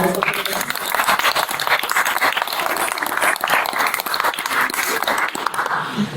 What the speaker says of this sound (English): Big round of applause for sad girls.